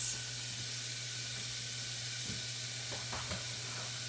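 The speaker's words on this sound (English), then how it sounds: "Can you hear that delicious sizzle?" Half an onion and other vegetables sizzle in a pan, a soft continuous hiss of frying with a low steady hum underneath and a few light stirring clicks partway through, no talking over it.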